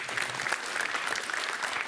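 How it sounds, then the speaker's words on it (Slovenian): Quiet, steady applause from a crowd for the Dravograd Neznanih talcev primary school team during a school quiz competition, continuous clapping at moderate distance with no break. "Aplavz pa seveda tudi za osnovno šolo Neznanih talcev Dravograd"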